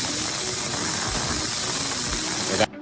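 A loud, steady buzzing hiss from an ultrasonic cleaner running with Honda VTR1000 carburettor parts, with a faint rattling texture, continuous, then cutting off abruptly near the end.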